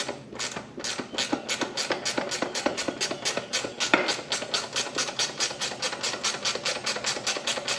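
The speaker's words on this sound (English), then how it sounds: "Get my wrench to go the right way." Ratcheting wrench turning a 10mm nut on a Go Power Sports MB200 minibike, a fast, even stream of close metallic clicks running continuously with no talk.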